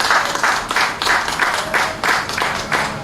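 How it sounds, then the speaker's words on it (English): Audience applause at a Ministry of Health handover ceremony for a mobile outreach unit, loud rhythmic clapping from many hands, steady and continuous throughout. "give a special round of applause to the ambassador and his team from the Republic of China and Taiwan"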